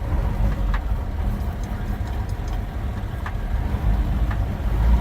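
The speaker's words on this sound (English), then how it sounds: "I think we'll leave that idle up." A 1949 Dodge B series pickup engine idles steadily with a low, continuous rumble close by, with a few faint clicks over it and no talk.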